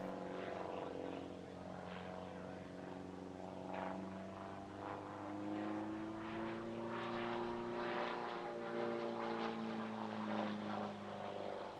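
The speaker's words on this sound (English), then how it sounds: "Here's Tim Dews performing a delightful display in his Silence SA1100 Twister, propelled by an 80-horsepower Jaraboo" A Silence SA1100 Twister single-seat ultralight with an 80-horsepower Jabiru 2200 engine performing an airshow display at Midlands Air Festival, its propeller drone rising and falling in pitch as it passes, steady and moderately distant.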